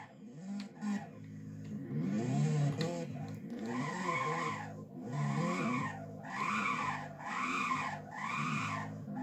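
A Honda Civic skids in the Roblox game Driving Empire, its tires squealing in repeated swelling bursts over a droning engine, loud and continuous.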